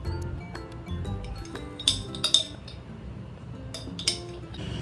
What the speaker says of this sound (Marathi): बेसिकली हे संपवून टाकायचं आता हे चमच्यानेच काढूया आपण